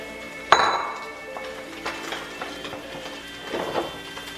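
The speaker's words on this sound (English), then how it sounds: "And then we're gonna add all the vegetables." Vegetables for a Thai stir fry of glass noodles dumped into a pan: a sharp clank at the start, then rustling, clattering and a later burst of shuffling as the pile settles, close and moderately loud.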